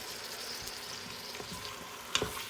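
Lasagna mixture stirred inside an Instant Pot, a soft steady sizzle with faint scraping of the utensil, ending in a couple of sharper clinks against the pot.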